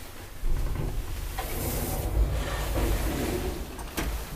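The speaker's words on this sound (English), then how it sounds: "Doors." Elevator doors slide along with a steady mechanical rumble and hiss, a soft thump as they start moving and a faint clack near the end.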